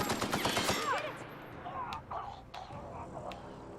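Rapid bursts of gunfire from The Outer Worlds, starting as a dense volley and thinning into scattered shots. Game sound effects and faint voices run under it at moderate loudness.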